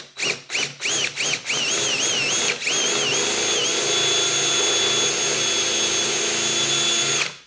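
A power drill fitted with a 5/16 bit bores into metal on a 2019 Harley-Davidson Road King Special during a light installation: several short whirring bursts, then a long, steady, high whine up close.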